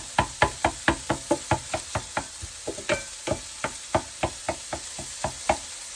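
A utensil knocks and scrapes repeatedly against a frying pan while breaking sausage into smaller pieces, a steady close rhythm of sharp taps, about four per second, with a faint sizzle beneath.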